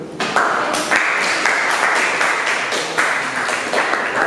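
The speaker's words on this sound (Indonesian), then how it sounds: "Tepuk tangan dulu." A classroom of students applauds steadily for several seconds, a dense wash of clapping hands at a fairly close distance.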